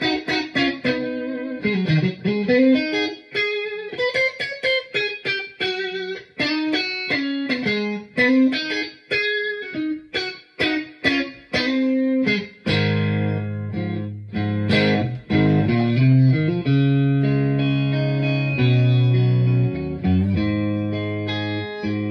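An electric guitar plays through a Vox Valvetronix VT40X 10-inch 40-watt combo amplifier with reverb added, first as a run of picked single notes and bends, then as sustained ringing chords, loud and close with no talking.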